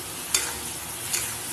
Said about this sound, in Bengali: বেশ কিছুক্ষণ ধরে নেড়ে নিতে হবে।